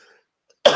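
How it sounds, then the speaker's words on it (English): A single sharp, close cough bursts out after a brief near-silence, with a hint of voice just before it. "Why am I coughing?"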